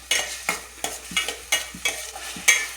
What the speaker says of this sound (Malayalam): ആവശ്യത്തിന് വെളിച്ചെണ്ണ ഒഴിച്ചിട്ട് ഇത് ജസ്റ്റ് ഒന്ന് ഇളക്കി കൊടുക്കാം.